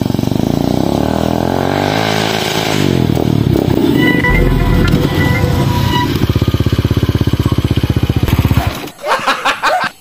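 A motorcycle with a sidecar runs nearby, its engine chugging loudly and shifting pitch as it revs, with brief voices, then cuts off sharply near the end.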